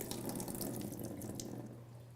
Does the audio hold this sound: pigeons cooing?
no